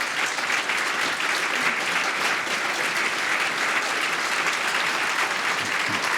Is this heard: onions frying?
no